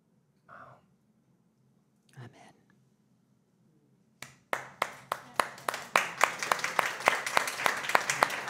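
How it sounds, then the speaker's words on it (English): Small audience at a soulmate talk breaking into applause after a pair of quiet rustles, sharp separate claps that quickly build into fuller, denser clapping, close and moderately loud. "We're doing a real applause here."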